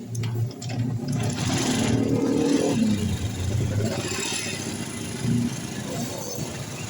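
A fuel-injected Honda Revo Fit motorcycle engine with a throttle fault is kick-started, sputtering and clattering into a rough idle with brief revs, heard up close and fairly quiet.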